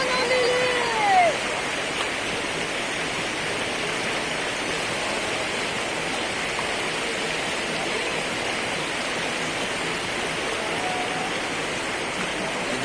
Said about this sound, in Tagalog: Medyo malakas yung agos ng ilog ngayon